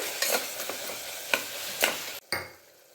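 Garam masala gets stirred into a softened tomato mixture in an oily pan, a low sizzle under a handful of distinct scraping strokes of a spoon against the pan, spaced irregularly, with a brief gap before a final stir.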